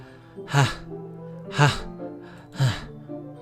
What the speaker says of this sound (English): It sounds like breathing.